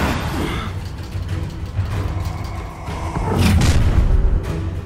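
Incendio fire spell cast in the video game Hogwarts Legacy, a whooshing burst of flame with a low rumbling boom amid busy game sounds, swelling louder toward the end.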